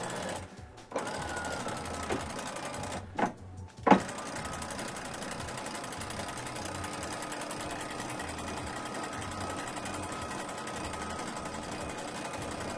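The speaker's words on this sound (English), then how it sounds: "pull the dinghy up to a certain point" A motorized davit winch on a sailboat hoists a dinghy aboard with a steady, whirring mechanical drone, broken by a few brief pauses and clunks early on before it runs continuously.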